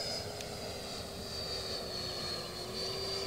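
A Freewing F9F-8 Cougar super scale 80mm EDF model jet flies overhead with gear and flaps down, its ducted fan giving a steady, distant high whine over a low airy rush throughout.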